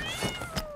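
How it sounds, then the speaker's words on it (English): A cat meows faintly twice in quick succession inside the video game Call of Duty, each cry a short, thin whine. "Why am I hearing a cat?"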